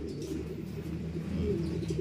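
Pet pigeons or doves coo steadily in soft, low, throaty bursts that overlap one another close by, with a faint flutter of other bird sounds and no talking.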